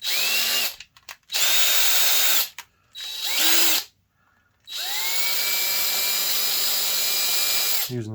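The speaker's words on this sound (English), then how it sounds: "Using the drill bit there to ream it out a little bit." A power drill with a bit reaming out a hole in a slot car, loud whining bursts that spin up and wind down, three short runs and then one long sustained run, each with a rising motor pitch.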